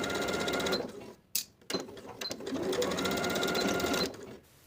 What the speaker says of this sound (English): sew it in place with a 3/8 inch seam allowance